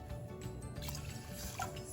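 Water poured from a cup onto millet in a pot, a soft, continuous trickling and splashing pour heard close and fairly quiet.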